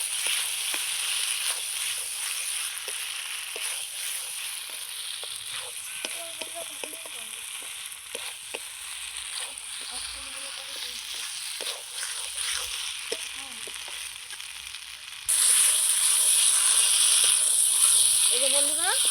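Chopped tomato and spices sautéing in a pan for a Bengali mirka fish and new potato curry, with a steady close sizzle and stirring scrapes while someone talks over it, and the hiss grows brighter near the end.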